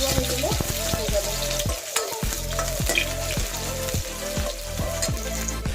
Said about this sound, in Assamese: পিঁয়াজটো অলপমান ৰঙচুৱা হৈ গ'লে হৈ যাব